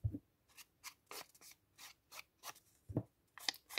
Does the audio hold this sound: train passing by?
no